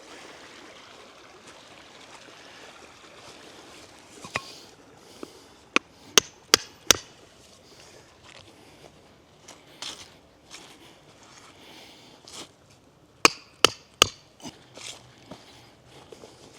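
Stakes are driven into the ground outdoors while setting up a new bee yard, with sharp, close knocks landing singly and then in quick clusters of three, over a quiet background.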